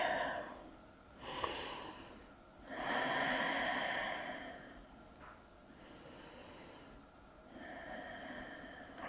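Slow, deep breaths during a gentle yoga flow, several long airy inhales and exhales drawn close to the microphone, alone in a quiet room with soft pauses between them.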